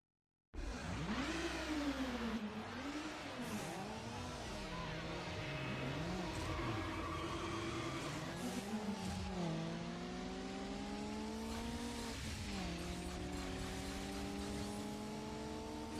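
Car engines rev and climb through gear shifts during a drag race in Need for Speed Underground, a loud continuous engine whine rising and dropping in pitch with no talk.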